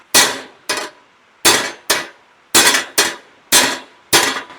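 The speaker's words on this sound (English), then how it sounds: "Whoop on it with a big hammer." Eight loud, sharp hammer blows strike metal with a big hammer, landing in pairs with a steady rhythm, each impact ringing briefly before dying away, with no talking.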